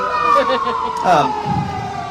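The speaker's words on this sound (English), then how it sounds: "We'll wait for the fire truck to go by." A fire truck siren wails loudly nearby, its tone sliding and warbling, while a voice talks underneath.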